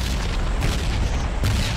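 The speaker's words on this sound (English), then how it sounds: "Just look outside the windows, you can see explosions." Video game explosions boom in a continuous rumbling barrage with a few heavier bursts, loud and dense, with no talk.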